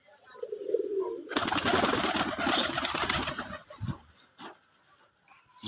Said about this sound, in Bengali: মোটামুটি 35 থেকে 40 জোড়া কবুতর আছে এখন আমাদের, সবগুলাই দেশি কবুতর।